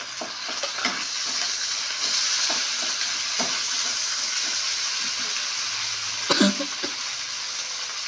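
Chili and garlic paste sizzles steadily in a hot pan while a spatula stirs it, a continuous close hiss broken by scraping taps and one louder clatter near the end.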